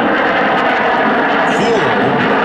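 A B-1B Lancer bomber roars past at an air show demonstration with its wings swept back, a loud continuous jet rumble filling the whole stretch, heard from a distance and steady throughout.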